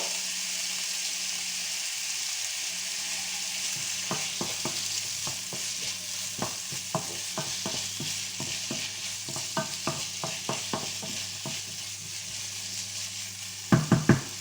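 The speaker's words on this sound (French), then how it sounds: "pendant que mes lardons et mes oignons cuisent" Bacon lardons and onions frying in a pan for a tartiflette, giving a steady close sizzle throughout, with repeated scraping and tapping of a spoon stirring, a quick cluster of louder knocks near the end.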